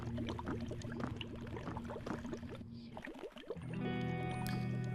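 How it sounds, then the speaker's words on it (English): Water bubbles and gurgles continuously in an eerie Eldritch game level, a dense wet churning that dips briefly before a steady low drone swells in, with no talk over it. "we can already hear the bubbling"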